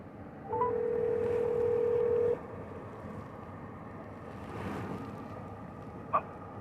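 A police officer dialing a phone call: a steady dial tone followed by a short keypad beep, faint amid quiet room ambience, with no talking.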